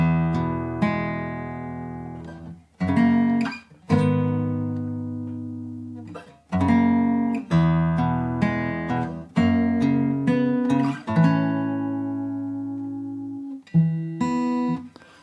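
A solo acoustic guitar in standard tuning plays the intro of a song, clear and close, with plucked single notes and ringing chords in a steady, unhurried phrase.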